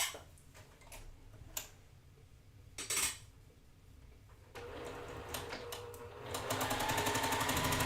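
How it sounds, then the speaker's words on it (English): A sewing machine runs steadily as it stitches diagonally across a quilt square, starting after a few light clicks and handling sounds and continuing as a close, even whirring hum to the end. "I'm going to go ahead and sew diagonally across my square."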